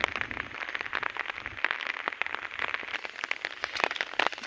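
Rain falling steadily outdoors near Amritsar, a dense patter of drops with sharp ticks and splashes hitting a surface close by, with no voices.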